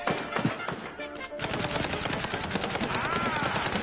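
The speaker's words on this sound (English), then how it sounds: "Just shut up and keep firing!" Rapid gunfire in the video game Mouse P.I. For Hire, a brief scattered burst and then a dense, steady stream of shots, loud and close, over busy game sound.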